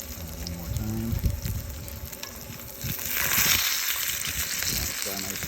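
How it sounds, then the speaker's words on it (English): Duck breast skin crisps in bacon fat on a Traeger grill, a steady sizzle and frying crackle running throughout, growing brighter midway, with someone speaking over it at moments. "Get that skin all nice and crispy. Again, bacon fat."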